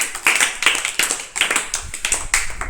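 Children in a classroom clap their hands in a fast, loud burst of repeated claps, rhythmic and close, with no talking over it.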